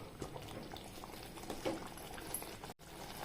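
Coorg-style black masala gravy made with wild mango simmers on low heat, giving a soft, steady bubbling that stays faint and close throughout.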